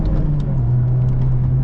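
Honda Civic Type R engine idling and revving in a steady low drone, loud and close, with a sustained engine tone but no distinct throttle blips standing out.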